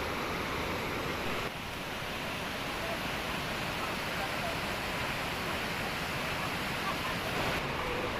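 Aliwagwag Falls in Davao Oriental, a steady, fairly loud wash of rushing water that fills the whole stretch with an even broadband roar.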